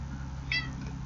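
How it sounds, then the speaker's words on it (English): A house cat gives a single short meow, faint and indoors, over a low steady background hum. "Sorry, that's my cat."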